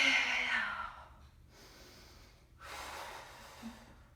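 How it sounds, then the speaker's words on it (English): Heavy, airy breaths during a Pilates mat exercise: a long breathy exhale, a brief pause, then another drawn-out breath, close and fairly loud with no talking. "Exhale."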